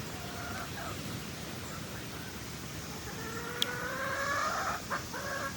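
Backyard chickens, just let out of their coop, cluck and call in short rising phrases over a steady noisy outdoor background. The calls get clearer and more frequent in the second half, with no one talking.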